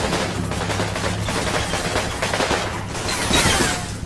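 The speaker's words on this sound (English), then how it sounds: "They're shooting at the church tower" Gunfire in the Combat Mission Final Blitzkrieg wargame, aimed at a church tower: dense overlapping shots and cracks, loud and continuous with a sharper burst near the end.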